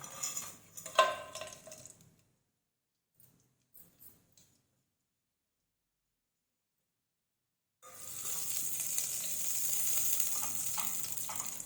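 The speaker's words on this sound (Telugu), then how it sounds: "ఇది వేడైన తర్వాత గరం మసాలాలు యాలకులు లవంగాలు చెక్క సాజీర బగర పువ్వు బగర ఆకు ఇవన్నీ వేసుకోవాలి" Whole spices such as cardamom, cloves, cinnamon, shahi jeera, stone flower and bay leaf hit hot oil with a bright, hissing sizzle that rises suddenly after quiet handling sounds and holds steady, close up.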